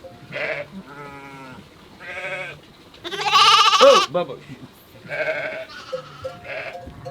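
Lambs bleat repeatedly up close in wavering, nasal cries, one especially loud and long, with a person speaking briefly between the calls in a mountain pasture.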